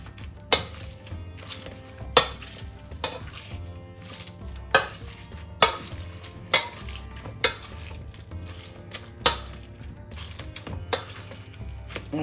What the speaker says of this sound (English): now I've drained off the Swede and carrots. So now we're going to mash it.